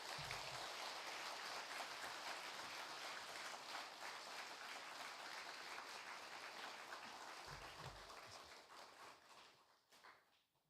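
A church congregation at a Sunday worship service applauds to welcome the pastor, sustained dense clapping that holds steady for most of the stretch and then thins out and fades near the end.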